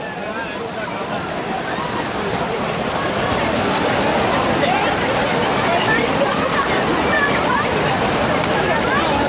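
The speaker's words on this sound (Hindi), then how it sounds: "यहाँ पे लहरों की आवाज़ सुनिए" Waves of the muddy Ganges River at Haridwar after rain make a loud, continuous rushing roar, close and steady throughout.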